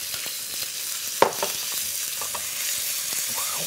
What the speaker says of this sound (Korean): 이렇게 해서 향을 잔뜩 내주면서 볶죠